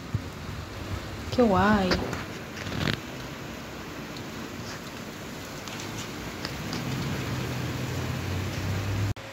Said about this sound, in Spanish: Está empezando a llover. Ay, está lloviendo.